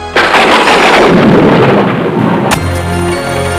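Loud, close thunder from the Gargoyles VCR board game tape roars and rumbles for several seconds, then a sharp crack is followed by a lower lingering rumble.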